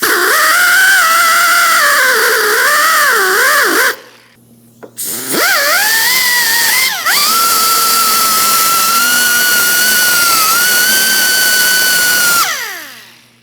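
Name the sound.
rotating cleaning wheel on a power tool cleaning a brake caliper bracket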